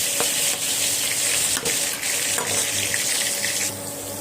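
Chopped onions fry in oil in a wok, a steady broadband sizzle that holds throughout with a few brief clinks and stirring bumps, close and fairly loud, easing slightly near the end.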